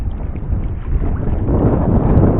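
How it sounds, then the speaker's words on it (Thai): Strong wind buffets a small fishing boat at sea before dawn, a loud, steady low rumble of gusts against the microphone that builds slightly over a few seconds, without speech. "มีลมครับวันนี้"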